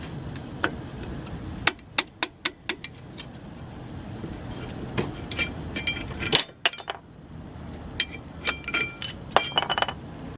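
Metal tools clinking while a screwdriver pries worn pads and the caliper off a car's brake, scattered sharp light taps and clicks over a quiet background.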